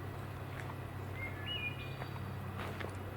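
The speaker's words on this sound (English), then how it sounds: "the wood thrush's song is one of the most beautiful that I hear on a regular basis" A wood thrush sings faint, clear whistled phrases from some distance, with a few brief chirps over a soft, steady background hum.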